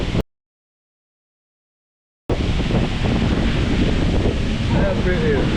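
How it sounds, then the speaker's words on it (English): Heavy rain pours down on a beach at night during a hurricane, a dense, steady roar with wind buffeting the microphone, continuous and loud after a brief dropout at the start. "Y'all see the rain, man. It's pouring."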